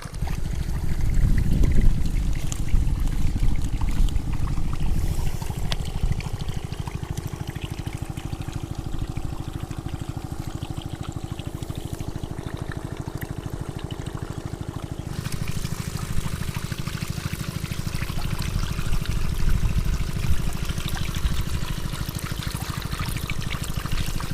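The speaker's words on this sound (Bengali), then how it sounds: "দেখো পুরো ফোর্স, পুরো 2 ইঞ্চি জল ফেলছে, ব্যাপক জল" A homemade solar-powered DC axial flow pump pushes a steady two-inch stream of water, a constant loud rushing pour with no break throughout.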